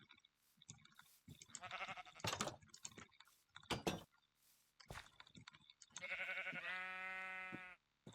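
A sheep in the video game Minecraft bleats, with several short wavering calls and a longer drawn-out bleat near the end, interspersed with game clicks and sharp interface sounds.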